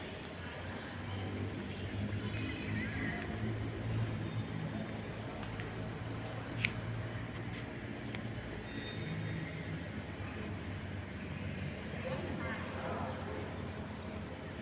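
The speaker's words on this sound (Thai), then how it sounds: "นี่เป็นบรรยากาศตีสี่นะครับสี่นาฬิกายี่สิบนาที สถานีรถไฟกรุงเทพนะครับ" Steady low hum of Bangkok's large indoor railway station at 4:20 a.m., with distant rumble and faint murmuring voices, no trains passing, one faint clink midway.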